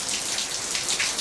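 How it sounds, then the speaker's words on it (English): Steady rain falling outside, a dense, even patter of drops with no pauses, close and moderately loud throughout, and no voices. "It started raining."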